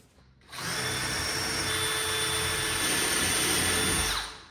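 A power drill bores through two aluminum strips clamped together for assembling a plastic shower wall. It makes a steady, close, high whining grind for about four seconds, then cuts off.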